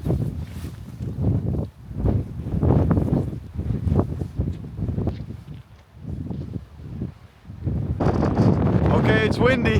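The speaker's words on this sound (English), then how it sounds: "It's definitely windy." Gusty wind buffets the microphone in strong bursts on a beach in the rain while a person talks over it, the roar swelling louder toward the end.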